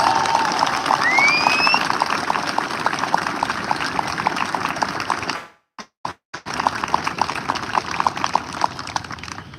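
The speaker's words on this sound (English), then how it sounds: "Once again, another round of applause, please." Crowd applause at a joint military enlistment ceremony, a brisk wash of clapping with a couple of rising whistles early on, briefly cutting out for a moment before the clapping resumes.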